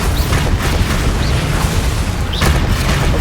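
Bombarda spell blasts in Hogwarts Legacy, a dense, loud roar of rumbling booms with a sharper burst near the end, continuous and up close.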